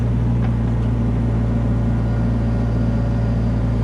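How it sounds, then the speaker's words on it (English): A skid steer loader drives past near a pond, a loud, steady engine rumble with constant low drone and no speech over it. "for the guy in the skid steer to come through and take it over to the pond"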